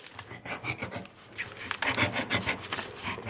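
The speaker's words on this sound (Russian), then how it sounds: "Попробуем, как всегда, консерву открыть." A Gerber Bear Grylls multitool blade scraping and rasping through a tin can lid, a continuous gritty metallic rubbing with uneven rhythmic strokes, close and fairly loud with no talking.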